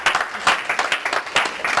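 An audience applauds Jim in a conference talk setting, a short burst of dense, steady clapping from a nearby crowd with no talk over it.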